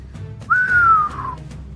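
Wiro Sableng lets out a single clear whistle, a sliding tone that rises sharply then glides slowly downward, lasting under a second against a quiet background.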